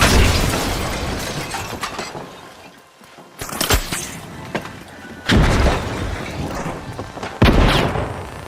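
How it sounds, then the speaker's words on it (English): Explosives detonate in The Finals video game: several loud booming blasts with crackling debris, each burst sharply onset and then decaying, spaced a couple of seconds apart. "Explosives deployed!"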